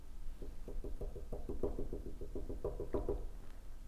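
Quick, light knocking, about a dozen raps in an uneven rhythm, close and fairly soft, with no one speaking.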